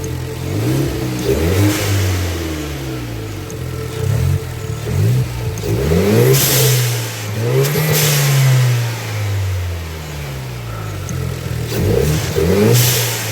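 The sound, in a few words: aftermarket blow-off valve on a Hyundai Genesis car engine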